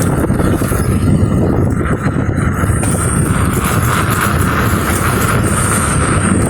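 An off-road motorbike engine runs hard at speed, giving a loud, steady, continuous rumble mixed with rushing wind. Individual gear changes are not clearly distinguishable.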